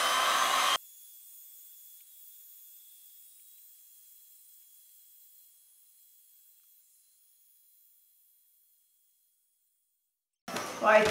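A hair dryer drying fluid art on deli paper, a loud close blast that cuts off almost at once, leaving a long fading hiss and then near silence before another burst of sound starts.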